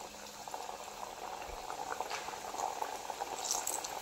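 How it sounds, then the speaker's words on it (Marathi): Chirote, layered Maharashtrian pastry, dropped into hot oil, giving a soft, even bubbling sizzle, faint and continuous with a few small crackles and no speech. "दुसरेही अशीच तेलामध्ये सोडून घेऊया"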